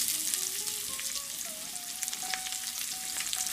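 Onions hit a smoking-hot pan and sizzle steadily, a bright crackling hiss with a faint tone wavering beneath, moderately quiet and alone without talk.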